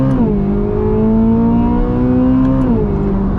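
A 2023 Chevrolet Corvette Z06 engine, race-derived, revs up under acceleration, a loud, close, rising tone that holds steady before easing off near the end, with no talking.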